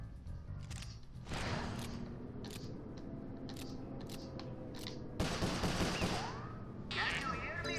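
Gunfire in the Sly Cooper: Thieves in Time final family-reunion battle, heard as rapid crackling volleys and bursts that swell at two points over busy game sound and music.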